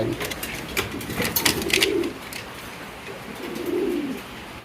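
Fancy pigeons cooing at a market stall, several soft low coos rising and falling, with nearby chirps and faint background voices.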